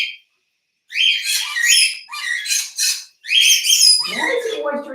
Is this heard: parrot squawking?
yes